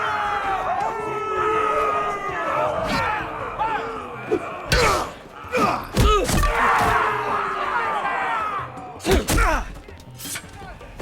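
A roaring arena crowd in a Game of Thrones video game scene cheers and bellows continuously, with loud thuds and slams cutting through the din and shouted voices mixed in.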